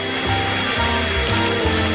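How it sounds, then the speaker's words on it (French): A hair dryer blows in a loud, steady, continuous whoosh with a low motor hum pulsing underneath, running close by with no talking. "Oh, je vais utiliser le sèche-cheveux."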